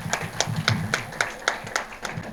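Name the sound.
audience applause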